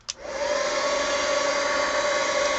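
Heat gun blowing across an art journal page coloured with Pablo pencils, starting with a click and then a steady, loud, whirring rush of air with a constant motor hum, close up and without talk.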